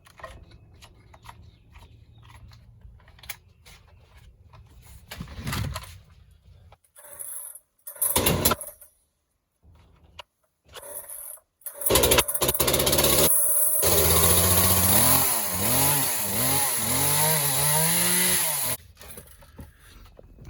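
A Craftsman 2200 chainsaw with an 18-inch bar is pulled and sputters a few times, then catches and runs loudly and close, revving up and down for several seconds before cutting off.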